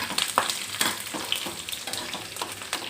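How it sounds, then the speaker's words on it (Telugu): Garlic tempering sizzling in hot oil while cooking a Telugu leafy greens and raw mango curry, a crackling sizzle with sharp pops and spatters recurring every half second or so, close up, with no talk. "ఎల్లిపాయతోనే ఎల్లిపాయతోనే తాలింపు పెట్టాలి"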